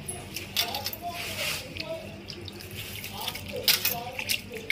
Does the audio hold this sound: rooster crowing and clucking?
no